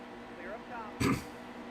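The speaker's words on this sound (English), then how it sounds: "I'm gonna cough a little bit here." A man gives a short, close throat-clearing cough during a NASCAR Heat 2 racing game session, a single rough burst after a quiet moment with a faint steady hum underneath.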